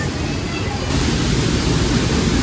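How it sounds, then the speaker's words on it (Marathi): Thoseghar waterfall, heard from a cave behind the falling water, fills the space with a dense, steady roaring rush. The sound is loud and continuous throughout, with no pauses. "म्हणजे वरून धबधबा येतोय खाली आणि त्या धबधब्या मागं आलोय."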